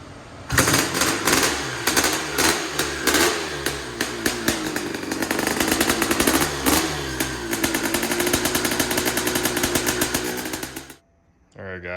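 A Honda CR500R engine in a three-wheeler trike conversion runs loud and close with a raspy, buzzing idle and small throttle blips, holding steady before abruptly cutting out near the end.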